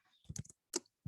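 A few quick keystrokes on a computer keyboard, soft close clicks in two short bursts, with no talk.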